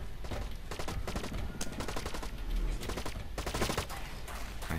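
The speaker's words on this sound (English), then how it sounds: "I hear shots." Rapid automatic gunfire in the shooter game Blacklight Retribution, dense continuous bursts of shots cracking close and loud for several seconds.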